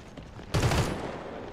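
A short burst of gunfire in the first-person shooter video game Crossfire X, a sudden loud blast with rapid shots that tails off into a decaying echo.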